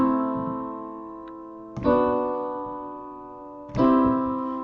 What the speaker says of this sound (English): On piano, it sounds like this.